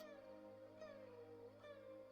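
A cat meows inside the video game Genshin Impact, one drawn-out, wavering meow with a slight rise near the end, steady and fairly clear against a quiet in-game ambience with no talking.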